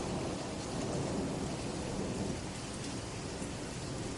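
Steady heavy rain pours down during a thunderstorm, a dense unbroken hiss with a low rumbling underneath and no voices.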